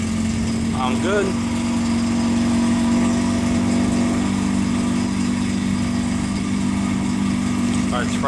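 Mazda RX-7 GSL-SE FB rotary engine running after starting, a steady loud idle drone throughout, with brief voice sounds nearby.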